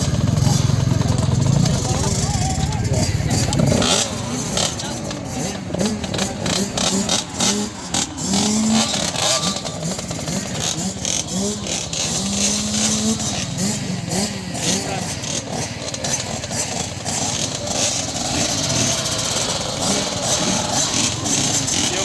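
A field of 50cc motorcycles races in a category final at a track in Ipil, Zamboanga Sibugay, with continuous buzzing engines revving and passing at mid distance while an announcer talks over the noise.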